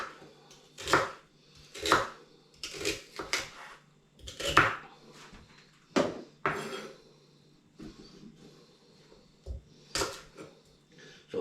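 A knife chops rhubarb into inch-long bits on a board, about a dozen sharp thuds at an uneven pace, close and clear with quiet gaps between cuts.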